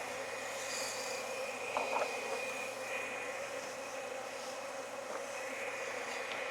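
Honey bees at an opened hive during a fall check in Jacksonville, Florida, give off a faint, steady, even hum with no talking.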